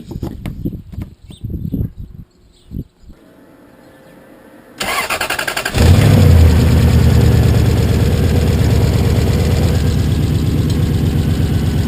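V8 engine in a Toyota Hilux with a snorkel induction being started: a few clicks and quiet moments, then the starter cranks and the engine catches, settling into a loud, steady idle heard up close.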